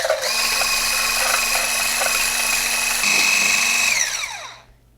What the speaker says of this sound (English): now I'm gonna use this handheld mixer to create stiff peaks out of the egg whites